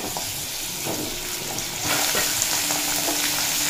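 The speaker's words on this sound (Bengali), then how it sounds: "আলু মিডিয়াম ফ্লেমে রেখে 1 মিনিট মতো ভেজে নিয়েছি, এরপর অ্যাড করে দেব পেঁপে" Potatoes and papaya fry on a medium flame, giving a steady close sizzle with light stirring scrapes, the frying growing a little louder partway through.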